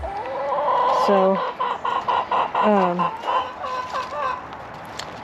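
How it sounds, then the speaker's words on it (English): Backyard chickens near a garden cluck and squawk in repeated bursts, close and fairly loud, with a few longer calls rising and falling and one brief spoken word. "Chickens are wanting me to throw them some tomatoes"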